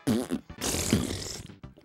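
A person imitates fart noises with the mouth, a few short, buzzy, sputtering blurts in quick succession, loud and close, with no other talk.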